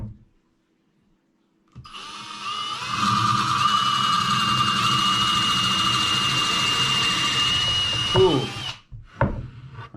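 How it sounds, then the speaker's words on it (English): A power drill whirs steadily for several seconds as it bores into live edge pine or cedar, then winds down; a brief spoken word comes before it starts. "I'm going to drill a hole here."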